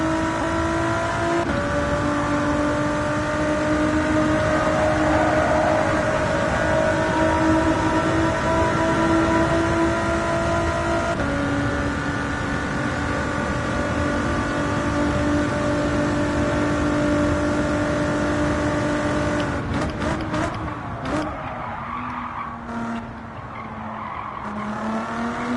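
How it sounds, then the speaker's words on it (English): A race car engine in Gran Turismo 7 holds a loud, steady high-revving drone for most of the run, then shifts and drops near the end, with no talk over it. "I love the sound of this car."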